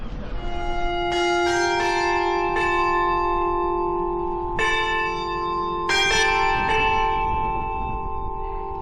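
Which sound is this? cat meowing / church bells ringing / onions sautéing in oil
church bells ringing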